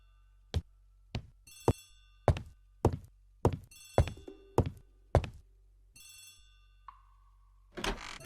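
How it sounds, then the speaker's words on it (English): Old-style telephone bell ringing in a hallway of a residence, repeated bursts of ringing mixed with sharp knocks and thuds, fairly close and clear, with no talking. "The telephone in the hall is ringing."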